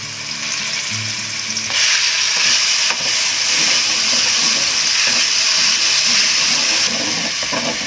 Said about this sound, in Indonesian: Sekarang kita panaskan minyak di dalam wajan. Kita masukkan cabenya.